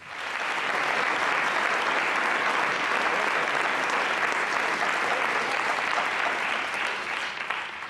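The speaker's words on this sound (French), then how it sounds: "Applaudissez pas, s'il vous plaît." Sustained audience applause, a dense, even wash of clapping from a crowd that swells in quickly and holds steady for several seconds before easing slightly at the end.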